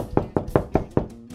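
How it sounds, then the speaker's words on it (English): Five evenly spaced knocks on a door, close and crisp, with no voices. "He's knocking on the door."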